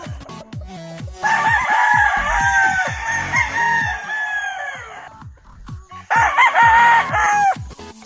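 A Pumpkin Yellow Leg Hatch gamecock rooster at a backyard game farm in Cebu crows loudly twice nearby, each long, strained call ending abruptly, with faint clucks and farm noise between them.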